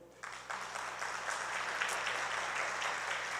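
A church congregation applauds steadily, a dense wash of many hands clapping at an even level throughout, with no voices rising above it.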